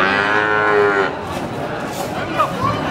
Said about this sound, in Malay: Oh ini. Sapi betina.